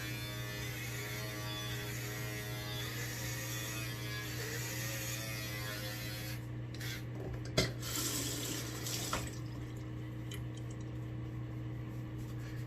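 Water runs steadily from a tap to wet hair during a haircut, a faint continuous rush over a constant electrical hum, with a couple of brief knocks partway through.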